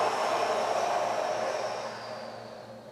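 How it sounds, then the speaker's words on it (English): One long, forceful exhale through the mouth during a breathing exercise for sacroiliac joint pain, a close, breathy rush that slowly fades over about three seconds, with no words. "And now blow all your air out."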